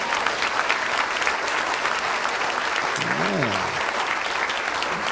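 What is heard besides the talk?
congregation applauding the pastor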